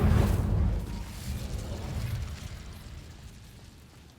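A fiery Incendio spell is cast in the Hogwarts Legacy video game against a giant spider: a loud whooshing burst that flares hard at first, then rumbles low and fades away over a few seconds.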